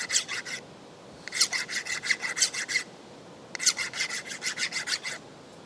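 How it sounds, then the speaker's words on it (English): Hand deburring of corners on machined metal pieces on a vertical mill, three close bursts of quick rasping strokes separated by short pauses. "I'm going to deburr these 4 corners"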